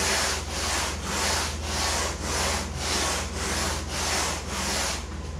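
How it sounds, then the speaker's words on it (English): Rhythmic back-and-forth rasping strokes, about eight even passes, close and steady, as foam is sanded by hand at a 45-degree angle while shaping a kayak. "So I'm sanding like this at about a 45."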